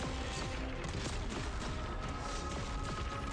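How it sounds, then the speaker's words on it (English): Dense, continuous clusters of explosions and booming gunfire-like bursts rumble in the Arknights video game, loud and chaotic with no pauses and no talking. "Okay, that was a lot of explosions."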